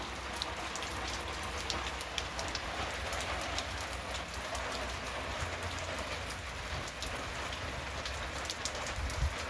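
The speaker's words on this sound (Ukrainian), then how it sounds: "пройде дощик, земелька вологи напитується" Steady spring rain falls in rural central Ukraine, a soft, even patter of many drops on surfaces that stays constant throughout with no voices.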